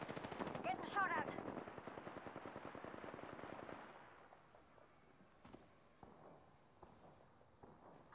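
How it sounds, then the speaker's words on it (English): Automatic gunfire rattles in rapid bursts during an Apex Legends match, loud at first and then thinning into scattered distant shots. "Getting shot at."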